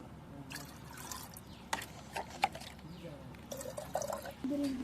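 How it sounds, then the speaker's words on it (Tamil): Water poured into a container to start a moina culture, soft trickling and dripping with a few brief splashes, fairly quiet, with a voice speaking alongside. "முக்கால்வாசி தண்ணியை ஊற்றிடலாம்."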